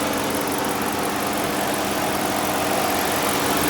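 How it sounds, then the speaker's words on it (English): The radiator fan on a 2010 Dodge Charger pursuit car runs loudly beside the idling engine, a dense, steady whoosh and whir heard close up throughout with no talk. "Now that fan kicks on"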